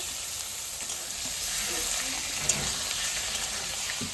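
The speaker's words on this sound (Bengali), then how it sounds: "এবার চিকেনটা দিয়ে দেবো চিকেনটা সুন্দর করে ভেজে নেব" Chicken pieces fry with onion in a pan over cumin, bay leaf and dried red chili, giving a soft continuous sizzle with light stirring and an occasional utensil tap.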